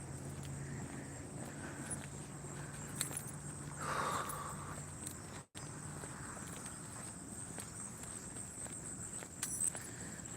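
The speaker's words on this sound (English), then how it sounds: "Ooh, my keys are falling down off my neck." Keys jangling as they slip off a neck during a walk along a roadside, brief metallic jingling bursts over steady footsteps and constant outdoor background noise, no talking.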